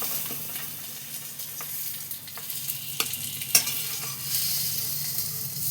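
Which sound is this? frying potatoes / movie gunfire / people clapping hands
frying potatoes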